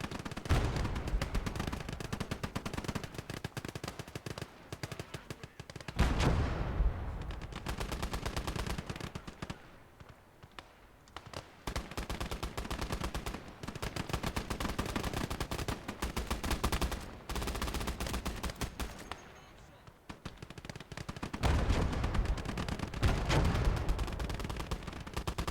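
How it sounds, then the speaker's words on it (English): Sustained machine gun fire in a Soviet battle video game, long rattling bursts with brief pauses, loud and dense throughout, with gunfire layered from several weapons. "these machine guns are getting more use than I thought"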